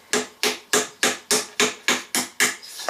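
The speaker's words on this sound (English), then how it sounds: "You can use your little hammer if you wish." A small hammer taps a push pin in a quick, even series of about nine sharp, close knocks, each roughly a third of a second apart, with no talking.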